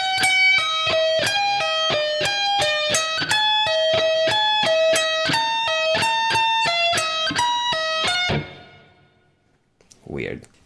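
Slow electric guitar solo passage, a steady run of picked, sustained notes stepping up and down with clear harmonics, ringing out loudly alone for about eight seconds before fading, followed by a brief faint noise.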